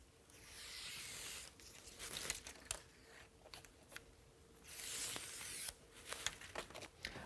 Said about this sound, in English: next we're going to pull off the white paper that protects the seals